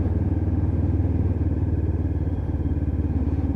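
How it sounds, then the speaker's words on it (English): A Lexmoto LXR 380cc motorcycle engine rev-matching while downshifting on a wet road ride, giving a steady, loud, close, throbbing low rumble with no talk over it. "Lovely sound from that engine."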